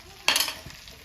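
Beef hits a hot pan and is stirred, giving one brief, loud burst of sizzling and scraping up close that quickly fades to a low crackle.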